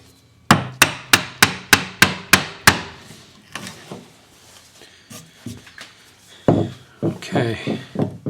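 A chisel being mallet-struck into walnut to cut a mortise for a Queen Anne side table: a run of eight evenly spaced sharp knocks, then a pause with soft scraping, then a faster flurry of lighter taps, all close and loud.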